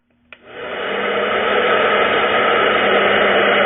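A hair dryer clicks on and quickly ramps up to a loud, steady, close-up whoosh that holds unbroken while hair is round-brushed.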